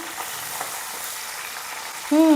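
Chilli, onion, mint and coriander frying in a pan give off a steady, close sizzle with a soft broadband hiss throughout, and a brief louder tonal sound rises near the end.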